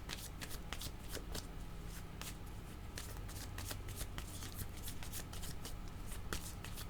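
A deck of tarot cards being shuffled by hand, close and fairly quiet, with continuous riffling flutter and rapid crisp card snaps in an irregular rhythm across the whole stretch, without talking.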